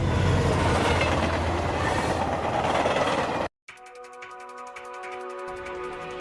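Anime train running along rails: a loud, dense rumble of wheels and carriage noise, then a brief cut to silence, followed by a quieter rhythmic clatter with tonal hum.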